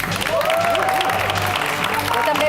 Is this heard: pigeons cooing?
no